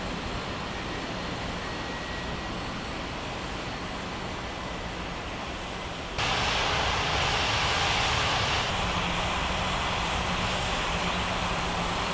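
An airliner takes off from runway 14 right at a large international airport, its jet engines a steady broad roar that jumps suddenly louder as thrust comes up and holds there.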